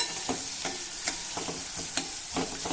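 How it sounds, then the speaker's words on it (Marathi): A large onion with Malabar spinach leaves is sautéed in a pan over medium heat. A soft continuous sizzle runs under regular scraping stir strokes roughly every half second, with no voices. "आता मध्यम आचेवर हे छान हलका तांबूस रंगाचं होईपर्यंत आपल्याला परतून घ्यायचं आहे"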